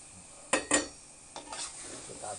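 Cleaned snails being stir-fried with spice paste in a pan, two sharp close scrapes of a utensil followed by softer stirring and a low sizzle underneath.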